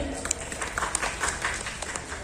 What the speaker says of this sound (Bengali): একজন একটা জোরে হাততালি